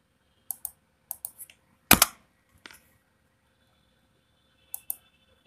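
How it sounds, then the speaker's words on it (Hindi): Scattered clicks of a computer keyboard as an address is typed into a browser, sharp isolated keystrokes with a louder Enter press in the middle, in a quiet room. "yahoo.com हमने टाइप किया ब्राउज़र में और एंटर प्रेस किया"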